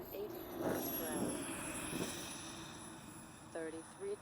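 Elite Aerosports EA Picaro 2.0 RC jet passing in flight, a distant turbine whine rising briefly with a throttle blip then easing off, outdoors with faint wind and a voice talking over it.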